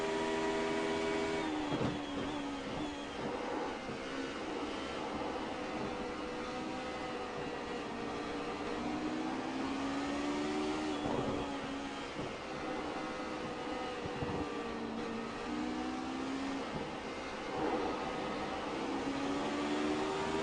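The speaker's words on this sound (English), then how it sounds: "listen to how he drives through the track, so we actually hear the braking points and everything else" Race car lapping Lime Rock in the iRacing sim, a steady engine drone whose pitch rises and falls through gear changes and braking points, continuous and fairly loud with no talk.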